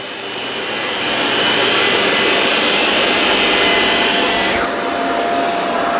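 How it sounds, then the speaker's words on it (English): Shark Apex powered Lift-Away DuoClean Zero-M vacuum cleaner running its brush roll across a rug, a loud steady whirring roar that swells in and holds close and constant, with a slight dip near the end. "This brush roll sounds a little bit more powerful to me."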